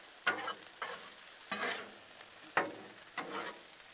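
Hamburger with onions and peppers sizzles on a Blackstone griddle, fairly quiet, broken by several scraping stirs of a spatula across the hot flat top.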